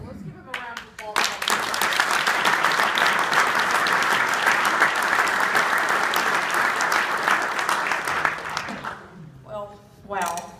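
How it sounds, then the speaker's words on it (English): An audience breaks into sustained, loud applause that holds steady for several seconds, then tapers off as a voice starts speaking near the end. "Let's give him a round of applause."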